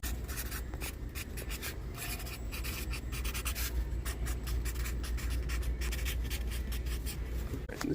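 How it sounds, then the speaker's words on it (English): Pen scratching across paper as thermostat wire pairs are noted down, a quiet, steady run of short scribbling strokes close up with little else around it. "So we're going to write down the pairs."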